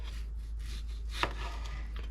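A knife slicing a green tomato for frying: soft repeated cuts and a sharp tap on a board, close and quiet over a low steady hum.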